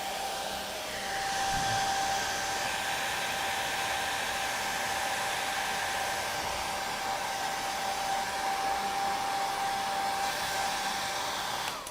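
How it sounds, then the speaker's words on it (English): A hair dryer blowing steadily to dry airbrushed paint on a model, a close continuous whoosh with a faint whine that runs unbroken throughout. "so hair dry this. We're not letting that air dry."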